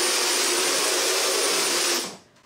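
A vacuum cleaner runs with a loud, steady whining roar for about two seconds, then spins down and cuts off, and a brief clunk follows.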